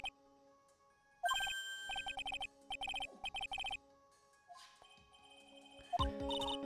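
A cell phone ringtone from the Phoenix Wright: Ace Attorney Justice for All video game plays in loud repeated electronic bursts over soft game music, falling silent before a brief musical sting closes the passage.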